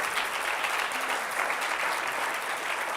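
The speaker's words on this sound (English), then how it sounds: "let's give them a rousing round of applause" An audience at a conference panel on the state of Africa claps steadily, a dense even wash of applause that holds for the whole stretch with no voices above it.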